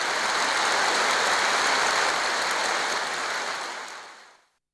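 A crowded meeting hall full of participants erupts in dense, enthusiastic applause, a thick unbroken roar of many hands that holds steady and then fades away at the end.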